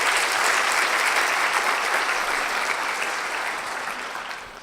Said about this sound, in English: Yes, you can clap for him.